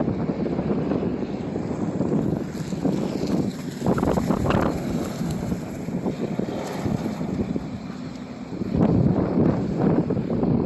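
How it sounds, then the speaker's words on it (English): Steady, heavy wind roar off the ocean buffeting the microphone at a truck weigh station in Amherst, Nova Scotia, with broadband rushing noise and gusts swelling louder at moments, no speech. "it's windy here. We're right off the ocean."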